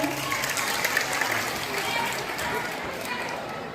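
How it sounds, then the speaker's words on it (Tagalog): Crowd applause rises at a Miss Gay pageant in Vinzons, Camarines Norte: a dense, continuous wash of clapping from a large audience, steady throughout with a faint voice underneath. "Masigabong palagpakan dyan."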